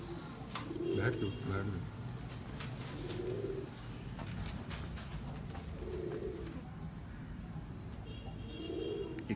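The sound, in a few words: pigeons cooing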